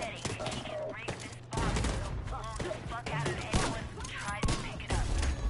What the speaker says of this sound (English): Just let me shoot the propane tank, jerks!